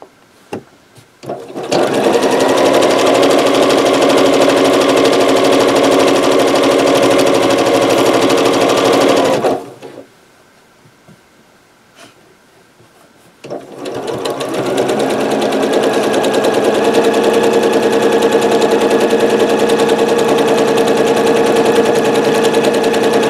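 A sewing machine stitches quilt blocks together for a nine-patch quilt, running in a loud steady whir for several seconds, pausing briefly, then starting up again and running continuously.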